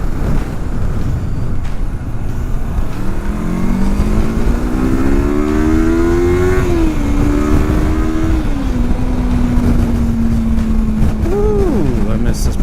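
A Kawasaki Versys 300 motorcycle engine drones loudly while riding, with wind rush and rising and falling revs through gear changes, and a rider speaking briefly near the end.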